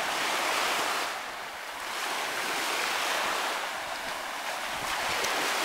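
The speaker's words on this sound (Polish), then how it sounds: "Nad polskim morzem." Sea waves roll steadily onto the Baltic coast of Poland, a continuous broad wash of surf with wind noise on the microphone, swelling and easing slightly over a few seconds with no voices.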